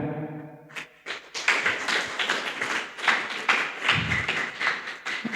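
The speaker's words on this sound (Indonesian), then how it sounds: "Ya, tepuk tangan." An indoor audience at a police talk on drugs breaks into a burst of clapping, many hands tapping in a dense, lively patter that holds for several seconds after a quiet start.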